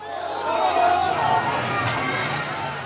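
Cheering crowds in the West Bank and Gaza greeting released Palestinian prisoners, a dense roar of many voices with shouts rising and falling, loud and continuous throughout.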